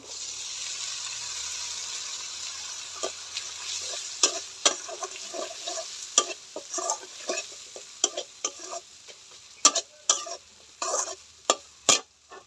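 Ginger garlic paste and onions hit a pan of spice mix for a rohu fish curry, frying with a low hiss under a run of sharp spoon clicks and scrapes that grow busier and louder toward the end.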